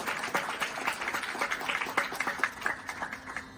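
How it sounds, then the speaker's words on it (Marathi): Audience applause for the side rhythm players at a live Marathi music performance, steady dense clapping throughout without voices on top. "आणि आमच्या साईड रिदमसाठी एकदा जोरदार टाळ्या होऊन जाऊ द्या"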